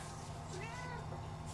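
A pet cat meows indoors, one short plaintive meow rising and falling over a steady background hum, fairly close.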